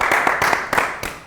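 A few people clap briefly, about four quick hand-claps in a short burst at close range, loud and crisp, with no other sound around them.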